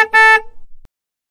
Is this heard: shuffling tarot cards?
no